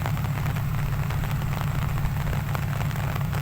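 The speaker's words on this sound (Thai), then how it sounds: "อ้าว เริ่มซาลงไปแล้วฝน" Steady rain easing off, a hiss with a low rumbling undertone, even and continuous throughout, no voices.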